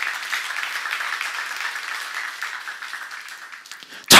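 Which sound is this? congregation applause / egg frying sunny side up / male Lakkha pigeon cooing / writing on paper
congregation applause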